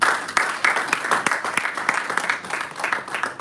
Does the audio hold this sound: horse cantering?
no